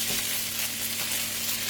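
Sweet potato gnocchi with garlic salt browning in a pan gives a steady, even sizzle and hiss of frying, continuous and moderately loud with a faint low hum beneath, no talking.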